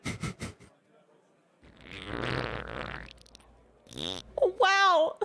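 A human voice imitates a loud, juicy fart with a long buzzing blurt, framed by short bursts of playful speech from the person making it.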